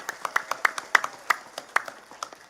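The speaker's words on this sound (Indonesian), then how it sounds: "Saya minta tepuk tangan dulu kangge warga Kampung Bubutulan." Villagers at an Islamic sermon gathering in Kampung Bubutulan clap by hand: a sparse run of distinct, fairly close claps in an uneven rhythm, a dozen or so sharp slaps over about two and a half seconds.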